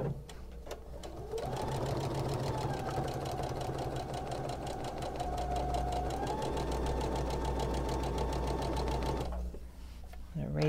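A sewing machine runs in one steady burst of rapid stitching, sewing piping onto a throw pillow; the motor starts after a pause, hums evenly for about eight seconds, then stops, close and clear.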